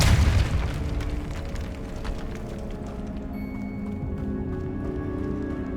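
A Depulso spell goes off in the video game Hogwarts Legacy, a loud booming burst at the start that fades into a sustained low rumble with ringing tonal tails.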